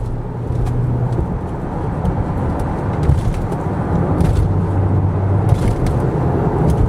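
A 2026 Nissan Pathfinder SL with a 3.5-liter V6 pulls onto a highway, heard from inside as a steady, fairly loud low engine and road drone that holds even for the full stretch, with faint rattles above it.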